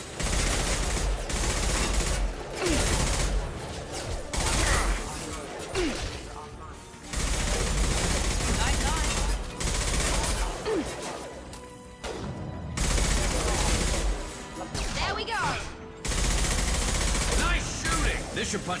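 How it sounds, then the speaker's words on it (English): Dense, loud bursts of gunfire and a concussive shot blast in the Mass Effect 2 video game come in repeated volleys a few seconds long, separated by short gaps, with combat voices in the background. "Firing concussive shot!"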